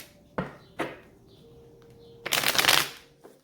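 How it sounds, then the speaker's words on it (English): Two quick card riffles, then a longer, louder burst of cards being shuffled, with a faint tap at the end. No talking. "One last shuffle."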